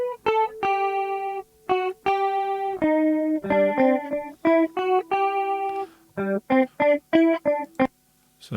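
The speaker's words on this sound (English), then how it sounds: "So there's a chorus on there." A livestreamed instrument plays through a chorus effect, a series of sustained, shimmering tones and short plucked notes with brief pauses between phrases, loud and close with no talking.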